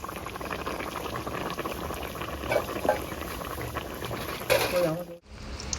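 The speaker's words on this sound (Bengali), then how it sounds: "এবার ছাড়ি গরম তেলে পরোটা আর মোগলাই পরোটা" Mughlai egg paratha frying in hot oil, a loud continuous bubbling sizzle close to the pan with a few utensil clinks partway through, cutting off sharply near the end.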